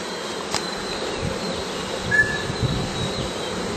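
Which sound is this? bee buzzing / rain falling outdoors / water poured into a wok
bee buzzing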